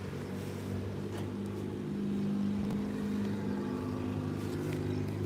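A car with a loud muffler drives past, giving a steady, heavy engine rumble that swells midway and holds.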